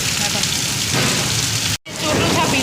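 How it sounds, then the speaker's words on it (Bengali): Heavy rain pours onto a rooftop in a dense, loud, continuous hiss that cuts out for a moment and then resumes at full strength. "পুরো বাম্পার বৃষ্টি পুরো একেবারে আজকে ছাদটাই আমাদের ভিজে গেছে"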